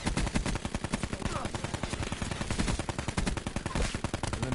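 Rapid automatic gunfire in a first-person shooter video game, a long unbroken burst of dense, evenly spaced shots as a full magazine is emptied, loud and close.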